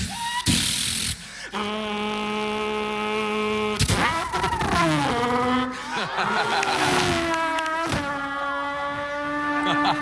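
A voice imitates a racing car by mouth, with sustained buzzing engine-like tones that rise and fall through upshifts and downshifts, punctuated by sharp bursts, loud and close.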